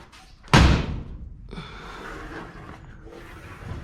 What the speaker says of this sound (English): Just going to shut the door.